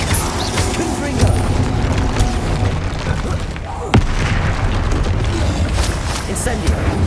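Casting the Confringo spell in Hogwarts Legacy lets out a booming blast, with one sharp burst standing out midway through a stretch of constant spell-combat rumble, and a voice speaking over it.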